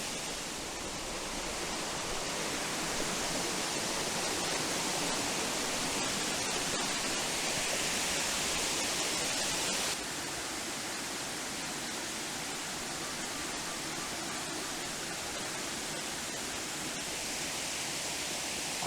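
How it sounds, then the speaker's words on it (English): Junction Falls in the Blue Mountains, New South Wales, pours steadily in a constant broadband roar of falling and splashing water, close and loud, with no voices, the level dipping slightly partway through. "It's a very, very pretty waterfall."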